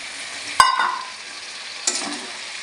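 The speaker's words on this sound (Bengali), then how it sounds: "এবার সব ভালো করে কষিয়ে নেব" Potato poppy seed curry with peas stir-fried in a pan, two short sharp sizzling bursts as the spoon scrapes and turns the mix, with quieter frying in between.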